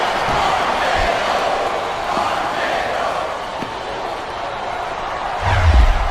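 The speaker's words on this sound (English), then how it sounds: "It sounds like this capacity crowd has something on their minds, Taz." A capacity arena crowd roars and murmurs in SmackDown Vs. Raw 2007, a dense steady wall of crowd noise with a heavier thump near the end.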